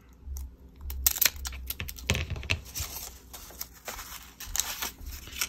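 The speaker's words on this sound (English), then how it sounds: "but I want to make like a flag. So I'm going to cut some out here." Paper is cut with scissors to make a flag for a journal, giving a series of crisp, close snips and light rustling crinkles at an irregular pace, fairly quiet, with no talking.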